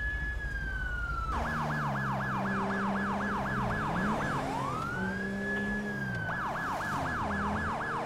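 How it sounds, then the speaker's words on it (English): A police siren in the video game LSPDFR blares loudly and continuously, a rising wail breaking into a rapid yelp, dropping back to a wail, then yelping again over a low engine hum. "And now we gotta listen to this guy's siren the whole time."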